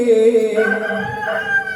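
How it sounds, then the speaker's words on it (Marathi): A single loud, close rooster crow rises in pitch and holds for under two seconds within a Marathi gavlan entry song. "कोंबड्याच्या रोलीने दुनिया जागी झाली"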